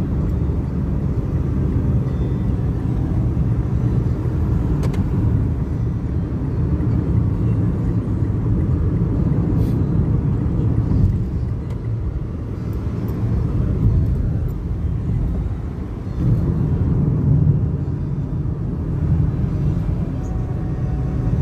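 Dense, steady road and engine roar from a car overtaking during a road trip to Subic, Zambales, loud and unbroken for over twenty seconds, with slight swells as it pulls past.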